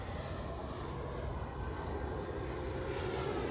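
FMS Avanti 90mm electric ducted fan model jet on 6S power flying with flaps down, a steady distant whooshing fan whine that holds constant throughout, fairly faint with no talk.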